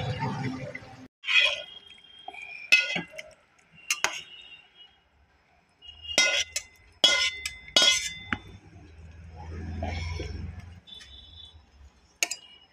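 Hilsa fish curry cooked with eggplant and black cumin is poured from a pot onto a plate, with scattered sharp clinks of metal and utensils, scraping, and a soft wet pour near the end.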